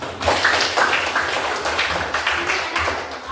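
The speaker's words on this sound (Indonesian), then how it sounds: "tepuk tangan dulu" A class claps hands together in a classroom at Universitas Sanata Dharma, a loud burst of rapid, closely spaced claps that carries on steadily for a few seconds.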